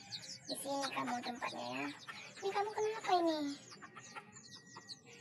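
Chickens cluck and murmur close by while a person talks softly to them.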